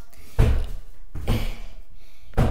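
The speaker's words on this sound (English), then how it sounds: "I'm opening the door for him." A door swings open in a video game, with heavy thudding impacts and a rumbling creak repeating in a few bursts, close and loud with no talk.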